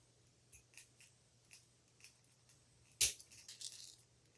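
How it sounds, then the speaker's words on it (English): A single sharp snip of cutters clipping a small excess piece of jewelry wire while a beginner charm necklace is made, close and quiet, followed by a few faint handling clicks. "And then we're going to cut off this little extra piece of wire."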